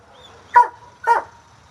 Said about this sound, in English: I don't want to respond to Apollo until he stops barking.